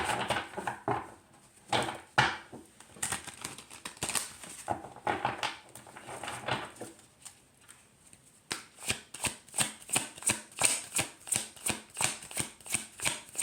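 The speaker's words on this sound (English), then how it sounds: "One card from the Metaphysical Cannabis Oracle." Metaphysical Cannabis Oracle cards are shuffled by hand at close range in quick, papery flutters and riffles, building into a steady rhythmic run of crisp slaps near the end, with no talking.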